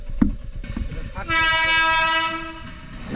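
A train horn blares in a long, steady harmonic tone for over a second at a level crossing with the gate down, following rumbling noise with a few voices in the background.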